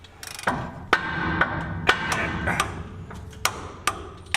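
A 3/4-inch drive torque wrench clicking as it torques wheel lugs on a square body dump truck, sharp distinct metallic clicks spaced about half a second apart, close and clear over low background noise.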